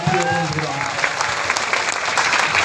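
Sustained applause from a crowd at a BNP political discussion meeting and prayer gathering in Bangladesh, dense steady clapping throughout with a faint voice over a loudspeaker underneath.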